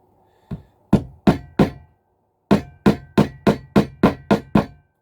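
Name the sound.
toffee hammer tapping track pins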